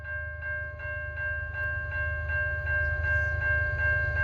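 A CN freight train rolls past an activated grade crossing, a steady loud rumble of wagons underneath the continuous, evenly pulsing ring of the crossing bell, with no talk.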